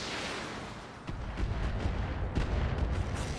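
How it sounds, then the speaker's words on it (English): An artillery tank firing in the RogueTech video game: a loud, rumbling barrage with deep booming impacts rolling continuously for a few seconds, no talk over it. "That's an artillery tank."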